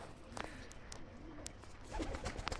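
Soft, low pigeon cooing at a distance, a few murmuring calls over a quiet background with faint scattered noises.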